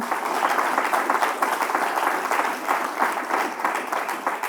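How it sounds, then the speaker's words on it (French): Sustained applause from an audience, dense and steady clapping throughout with no pauses. "je vous demande un tonnerre d'applaudissements pour Ariane Fratcourt et Michel Provost"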